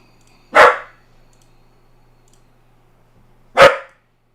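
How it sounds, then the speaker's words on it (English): A dog barks twice, three seconds apart, each bark sharp and fairly close, with quiet background and a faint low hum between them. "That dog is just barking away."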